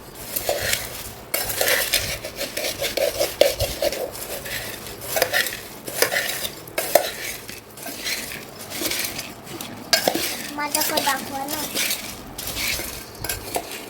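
Utensils scrape and clink steadily inside a bowl as a homemade bhel mixture dressed with a little oil is tossed, with continuous metallic stirring and occasional sharper clatters, close and fairly loud with no voices.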